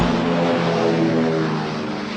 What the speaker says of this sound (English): Planes are launched to respond to a threat in the area.